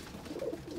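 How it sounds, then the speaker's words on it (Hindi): A Ferozpuri pigeon gives a single soft, low coo, brief and close against quiet background noise. "ये है फिरोजपुरी कबूतर प्योरिटी में"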